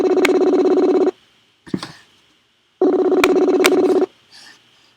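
Ringback tone of an outgoing phone call: two long, loud electronic ringing bursts separated by a pause, with faint handling noise in the gaps.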